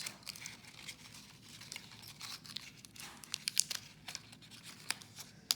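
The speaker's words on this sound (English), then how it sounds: "Get a couple pieces of tape ready." Pieces of tape being torn off a roll to stick inside a paper roller coaster, a run of short ripping and crinkling bursts close by, fairly quiet, with no voices.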